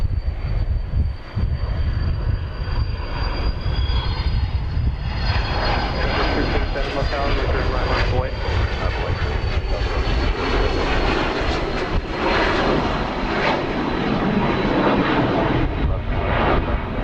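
A fixed-wing airplane takes off from runway 31 right at Dallas Love Field, its engines roaring loud and steady throughout, with a whining high tone and faint radio voices underneath.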